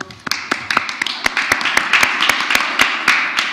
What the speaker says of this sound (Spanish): Le agradecemos tanto a Carolina y Danilo, con un gran aplauso.